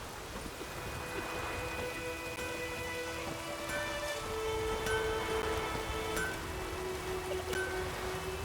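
Steady rain falls in The Witcher 3, a continuous dense hiss with a low rumbling undertone that rises slightly midway, while faint tonal game ambience lingers in the background; no one speaks.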